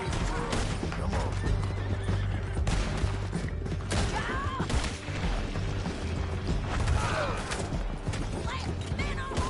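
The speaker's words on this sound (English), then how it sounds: "Left, men on horses." Horses whinny and gallop with pounding hooves in the Red Dead Redemption 2 video game, amid gunfire and chaotic action, with voices shouting briefly in the mix.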